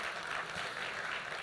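A concert audience applauds a composer at a folk and Sufi music event, producing a steady, dense wash of clapping that fills the short moment at moderate loudness.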